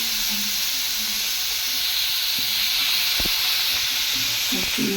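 Chicken meat for Bengali momo filling is added to a hot frying pan, giving a steady, loud sizzle and hiss throughout with a few soft clinks of utensils close by.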